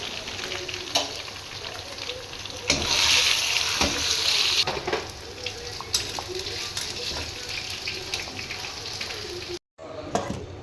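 Onions fry steadily in hot oil for a tempering on chicken haleem, sizzling continuously, while a spoon now and then clinks and scrapes against the pan.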